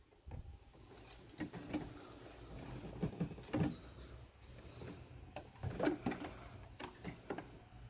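A sewing machine stitches a bonnet cap with an elastic hairband, a quiet intermittent mechanical whir and clatter in short runs with small knocks and handling noises between them, close by.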